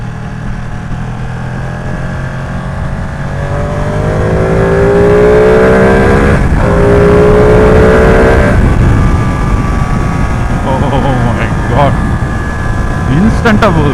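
A Ducati V2 motorcycle engine rumbles and revs while being ridden, its pitch climbing through rising sweeps and then settling, loud and close over wind noise, with someone talking over it.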